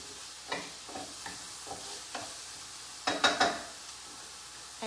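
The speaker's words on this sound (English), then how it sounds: "let me get this onion sauteing" Onion sautéing in a pan with leftover bacon drippings, a soft low sizzle punctuated by a few sharp scraping strokes of a utensil, the loudest cluster near the end.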